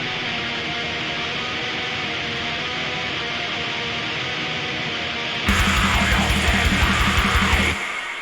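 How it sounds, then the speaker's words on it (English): A dense, distorted electric rhythm guitar through a Kemper amp modeler chugging rhythmically at a steady level, growing louder and brighter partway through before cutting off near the end. "the rhythm guitar sound is from the Kemper"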